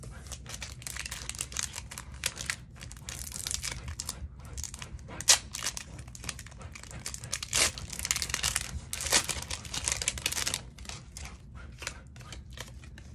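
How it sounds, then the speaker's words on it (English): Tissue paper is pulled from a Pokemon 151 binder collection box, making soft, irregular crinkling and rustling bursts that come and go over several seconds, close up and fairly quiet, with no talking. "So let's take out that tissue paper."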